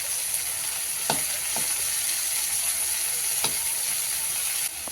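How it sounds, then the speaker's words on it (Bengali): Garlic and onion frying in a pan for a greens dish, a constant close hiss of sizzling oil with a few sharp scraping stirs of a spatula, no talk. "পেঁয়াজটা দিয়েও কিন্তু আমি ভাজা ভাজা করে নেব"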